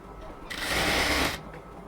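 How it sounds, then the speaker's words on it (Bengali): A sewing machine stitches a one-inch border along the side of a luxury cotton dress, giving one short, close, even whirring run of about a second between quiet pauses. "এই পুরো সাইডটাকে আমরা হচ্ছে 1 ইঞ্চি পরিমাণ বর্ডার করে সেলাইটা করতেছি।"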